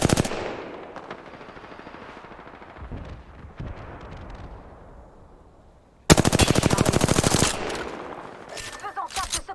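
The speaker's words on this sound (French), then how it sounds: "il continue à me tirer dessus" Rapid, loud machine-gun fire bursts out in a multiplayer shooter game, dense rattling volleys after a stretch of quieter game noise and talk, with more scattered shots trailing at the end.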